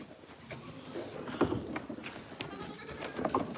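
Goats bleat quietly at a goat farm, several scattered calls over steady low background noise and a few knocks, somewhat distant, with no talk.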